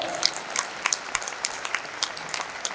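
Applause from an audience at a comedy show at a literary festival, dense clapping with sharp individual claps standing out, loud and steady throughout.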